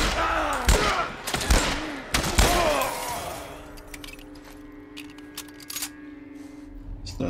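Gunfire in The Last of Us Part One: three sharp, loud shots in quick succession at the start, each with a ringing tail, then a quieter stretch of low game ambience and hum.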